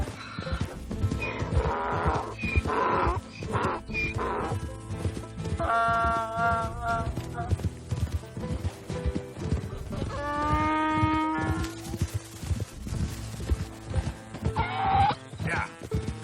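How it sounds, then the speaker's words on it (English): A donkey brays in Red Dead Redemption 2, several loud, hoarse, wheezing calls in repeated bursts over busy ambient game sound, close and prominent. "It's just a donkey"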